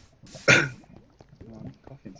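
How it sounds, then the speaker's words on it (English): A single sharp cough rings out close to the microphone, followed by quiet muffled speech and faint clicks. "Oh, I'm coughing so much."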